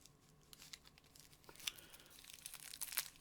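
A plastic bag crinkles and rustles as it is opened, in soft irregular crackles that grow busier and slightly louder toward the end.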